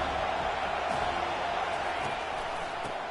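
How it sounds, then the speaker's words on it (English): A stadium crowd in a football video game keeps up a constant, dense roar throughout, with a commentator's voice talking over it. "This crowd knows when to bring it."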